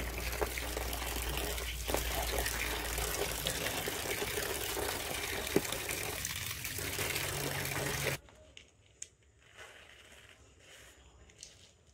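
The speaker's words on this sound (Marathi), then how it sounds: "जे आहे बिया ते आपल्याला धुवायच्या आहेत व्यवस्थित" Kokum seeds washed in water, a steady close gush and splash of running water for several seconds, then quieter dribbling and the occasional clink.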